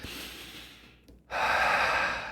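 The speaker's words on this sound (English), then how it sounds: "taking a breath, being present with that by observing the physical sensations" A person draws a deep breath through the nose and mouth, a soft inhale that fades, then a short pause before a fuller, louder airy breath that lasts to the end, close to the microphone.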